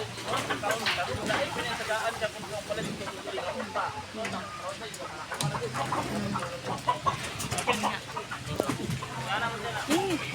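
Chickens cluck and a rooster calls intermittently in a busy outdoor setting, with people talking nearby throughout.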